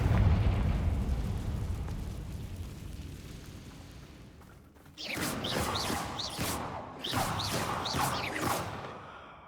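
A Confringo fire spell from Hogwarts Legacy blasts with a heavy rushing roar that fades, followed by sharp, crackling bursts of magical impacts.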